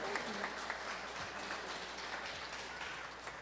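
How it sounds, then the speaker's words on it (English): A live talent-show audience claps for the comedians and the winner, a brief burst of fairly quiet, steady applause with a few louder claps standing out, heard at some distance. "one big round of applause for all of our comedians and the winner, Beecher"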